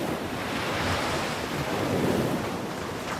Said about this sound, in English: They saw the vast thundering ocean.